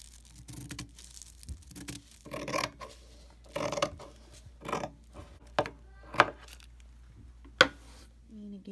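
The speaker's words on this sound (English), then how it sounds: "it's time to take the scissors and do the detailed cut" Scissors cut through four thick layers of fabric for a long-sleeved blouse, giving quiet, uneven snips and rasping crunches with a few sharper clicks, close and alone.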